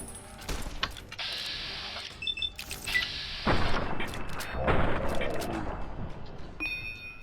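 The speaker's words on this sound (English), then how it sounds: "I know that the gunshots can kind of be really loud." Gunfire in Fallout: New Vegas, with sharp shot cracks and bursts mixed with clanking weapon mechanisms and heavier booms, fairly loud and irregular, with a player talking over parts of the action.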